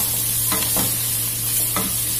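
Onion and curry leaves frying in a pan for vegetable biryani, a continuous close sizzle with a few brief stirring scrapes.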